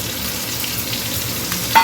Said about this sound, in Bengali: এদিকে ভাত ভাজা রেডি একটু গরম করতে হবে